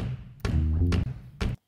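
Room-mic drums from a live recording mix: three booming hits with ringing roomy decay, fairly close and solo, the last cutting off abruptly.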